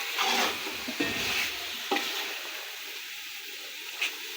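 Chicken korma goes into a pan of sizzling dal for chicken haleem, giving a loud, close, continuous frying hiss broken by several scraping thumps of a spoon as it is stirred in.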